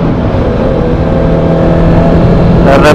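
A motorcycle fitted with an SC Project exhaust runs at steady revs, a loud close drone with a held engine tone that swells slightly near the end, heard without speech.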